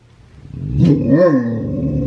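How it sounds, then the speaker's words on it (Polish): A dog gives a low growl that rises into a short bark-like yowl, close and fairly loud, with the rumbling continuing to the end of the brief clip and no talk over it. "O, teraz poznacie naszego groźnego psa."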